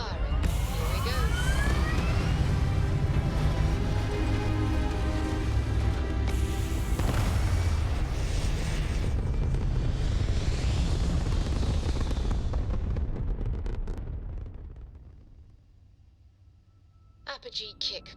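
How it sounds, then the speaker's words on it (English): Spacecraft engines fire in a Mars video game, a loud sustained roaring rumble with whooshing hiss and rising tones that carries on for about fourteen seconds, then fades out, with brief clicks near the end. "Engines firing."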